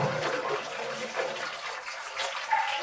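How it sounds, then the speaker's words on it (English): Well water running from garden hoses attached to a wall, used to rinse out a barrel; a soft, steady splashing rush with small gurgles, fairly quiet and continuous. "And this water is coming out of a well right almost under our feet."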